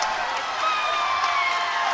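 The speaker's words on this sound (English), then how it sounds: "The Loyola faithful behind us are cheering." Spectators at an indoor college swim meet cheer and shout in a continuous, echoing roar of crowd noise from the pool deck stands.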